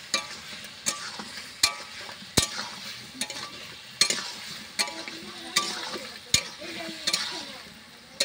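Kuche fish curry fries in a pan and is stirred, with a soft, steady sizzle broken by regular sharp clicks and scrapes of the spoon against the pan, roughly once a second.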